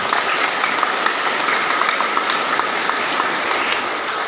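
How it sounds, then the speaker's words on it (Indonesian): A large crowd applauds at a martial arts association anniversary gathering. The dense, even clapping is loud and continuous from start to finish, with no pauses. "Tepuk tangan untuk semuanya."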